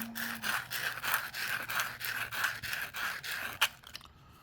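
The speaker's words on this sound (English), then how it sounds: "And then I'm going to take the sandpaper and I'm going to smooth that up a bit" Sandpaper rubs back and forth on a heavy brass RC steering knuckle in quick, even, close strokes, about a dozen faint rasping passes with no talking.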